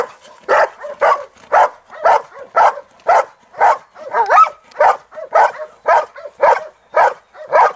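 A dog at an IPO dog sport demonstration barks steadily and loudly, about fourteen evenly spaced barks over several seconds, close by with no talk.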